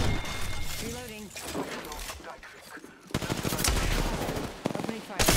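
Video game gunfire comes in rapid bursts and heavy volleys with some shattering impacts, loud and close, while a voice talks over parts of the action.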